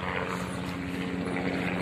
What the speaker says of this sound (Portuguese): Tá um trânsito bem grande de helicóptero aqui, ó. E eles estão passando baixinho